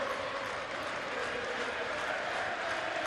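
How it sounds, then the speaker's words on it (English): A dense, continuous roar of a large football crowd in a stadium at an A-League match, Melbourne City v Wellington Phoenix, cheering and clapping at a distance without letup. "there are some Wellington Phoenix fans in the crowd, as you can hear"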